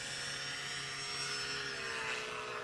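Chinook STOL airplane at a STOL landing competition drones steadily with a propeller whine, fairly faint and distant, continuous with no voices.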